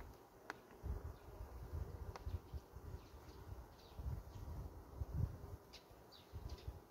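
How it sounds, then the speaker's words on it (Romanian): Honey bees around a hive frame during queen introduction, a soft, continuous low buzzing close by with small swells and rustles, no talk over it. "Hai că nu sunt multe albinuțe."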